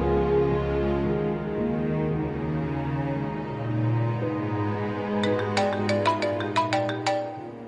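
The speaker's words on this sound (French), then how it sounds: "Son téléphone sonne ici." A mobile phone ringtone plays alone: a sustained melodic tone that gives way to a bright, repeating chiming pattern, at moderate volume and close by.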